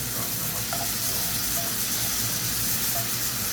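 Garlic sizzling in a hot pan while cooking a radish green omelet, a loud, constant frying hiss with no breaks and a few faint clinks.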